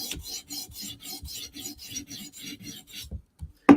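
A Lynch Titanium Shaman knife with an M4 steel blade is drawn in forward strokes across a sharpening stone, about a dozen even, close rasping scrapes in a steady rhythm, ending with a brief louder knock.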